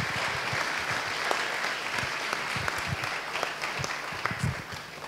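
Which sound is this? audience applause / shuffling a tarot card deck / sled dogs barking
audience applause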